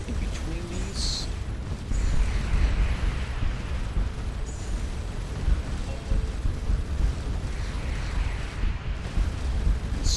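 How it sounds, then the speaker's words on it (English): Enemy missiles fire at the player's ship in the space game Starcom Nexus, producing a steady, low rumbling barrage of muffled blasts and booms that continues throughout at moderate loudness. "stop this from firing even more missiles at us"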